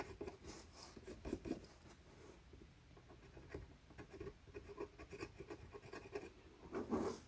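Fine, dry scratching strokes rasp against a copper circuit board trace in a digital piano keyboard, in short irregular bursts, close up and fairly quiet, with no talking.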